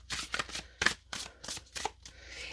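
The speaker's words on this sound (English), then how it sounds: "I'm going to shuffle this, actually." A Schiffer Red Feather card deck is shuffled close up, giving several quick papery riffles and soft slaps in an irregular rhythm with no talk.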